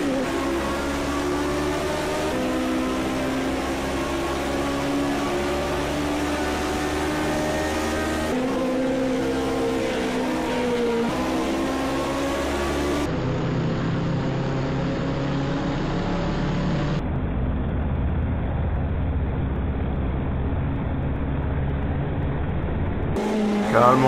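Race car engine from a racing video game, a steady sustained drone with shifting revving harmonics, loud and continuous throughout with no talk over it.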